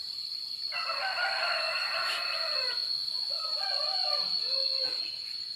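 Chickens cluck and a rooster crows in a farmyard, a near, loud burst of calls repeating over a steady high insect buzz, with no talking.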